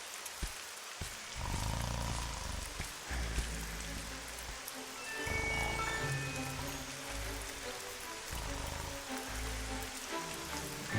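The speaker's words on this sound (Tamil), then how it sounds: "என்ன இந்த மழை நிக்கிற மாதிரியே தெரியலையே." Steady rain falls continuously in an animated cartoon scene, a broad hiss of drops with a few heavier low thumps and some faint background music tones, fairly quiet throughout with no talking.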